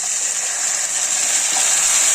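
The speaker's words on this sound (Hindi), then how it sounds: "अब इसमें डालेंगे पानी। इसमें पानी डालेंगे थोड़ा सा" Water poured into a hot pan sizzles loudly while mutanjan, a sweet rice dish with cloves, cooks over lowered heat, a steady close hiss lasting throughout.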